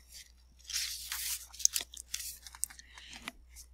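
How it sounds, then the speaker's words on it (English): A katydid chews a mango tree leaf, heard as soft close crunching and tearing nibbles in irregular bursts over near silence. "She makes tiny holes in the leaf as she eats. Munch, munch, munch."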